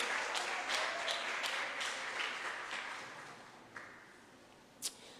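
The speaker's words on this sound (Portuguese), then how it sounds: "Você pode aplaudir ao Senhor e já dar glorificando a Ele?" A church congregation at a Bible-study gathering claps softly in praise, a faint, distant patter of many hands that gradually dies away, with a couple of isolated sharper claps at the end.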